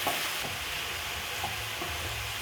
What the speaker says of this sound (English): Stir the meat.